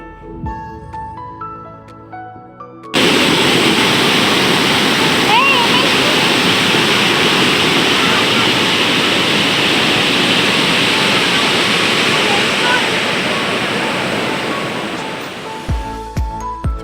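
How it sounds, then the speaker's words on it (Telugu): After a brief musical opening, a loud, continuous roar of water rushing through the Nagarjuna Sagar dam gates, shaking the bridge, takes over, steady and close for many seconds before easing off near the end. "అదురుతుంది ఆ వాటర్ ఫోర్స్కి బ్రిడ్జ్ అది అక్కడ అదురుతుందండి సౌండ్ కూడా విపరీతమైన సౌండ్ వచ్చింది"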